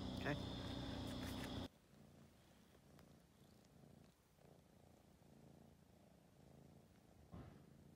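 A cat purrs steadily and close, first loudly for a moment, then softer and continuous, with faint background noise.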